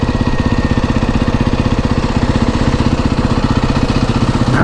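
A motorbike engine running steadily as the rider pulls in to park, a loud, close, rapid throbbing putter that stays even throughout, with no voices.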